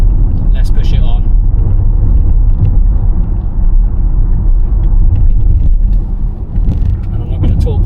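A 2024 BMW 550e accelerating on a twisty road, heard from inside as a loud, steady low rumble of drivetrain and road noise, with a brief voice near the start.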